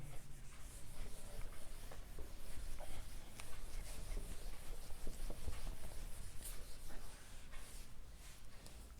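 Faint, continuous scratching and rubbing of chalk or marker on a board during a mathematics lecture, soft and steady against quiet room noise, with no talking.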